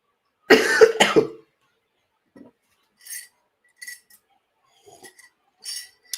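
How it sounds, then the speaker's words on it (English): A harsh burst of coughing up close, then quiet with a few faint clinks and soft noises scattered afterward. "I don't know what's up with this dirty cough"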